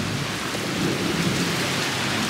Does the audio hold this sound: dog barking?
no